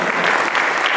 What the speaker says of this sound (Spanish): El pueblo se sienta y le da un fuerte aplauso al Señor